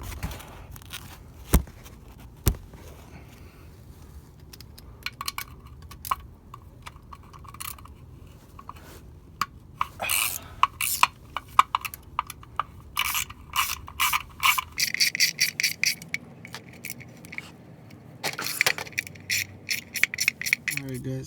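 Bolts come off the oil pan of a VW/Audi 1.8T engine with a hand ratchet, giving bursts of quick clicking pawl strokes broken by pauses, metallic rattles and scraping, all close by.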